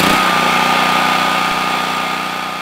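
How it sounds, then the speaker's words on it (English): A small portable generator engine catches and settles into a steady, buzzing idle right after a pull start, close and continuous. "Otherwise, put it to the on position and give it a pull."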